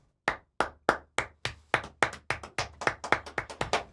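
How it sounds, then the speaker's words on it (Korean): A quick run of about fourteen sharp hand claps in a steady, slightly accelerating rhythm, close and clear, with no talking. "일단 박수."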